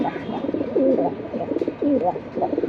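Pigeons coo close by in a few soft, throaty rolling phrases, with light background noise between calls.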